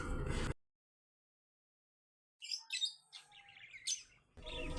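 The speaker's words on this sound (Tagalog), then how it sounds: "ipapakita ko po sa inyo yung ating pong mga ibon habang naandyan po sa screen natin" Small birds chirp in short, bright, high tweets that come in a quick irregular flurry after a brief silence, moderately close, with louder broadband noise at the start and end.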